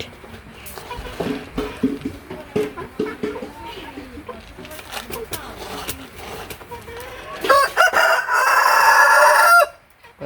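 Village chickens, among them a feather-footed breed, cluck and crow in a rural yard under a cloudy sky, with talk and bird calls throughout and a louder, steady burst of noise near the end.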